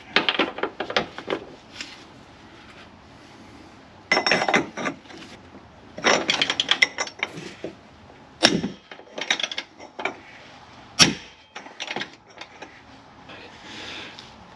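A ratchet works a very long rear suspension bolt loose on a 2004 GTO, giving irregular bursts of sharp snapping clicks and creaks separated by short pauses.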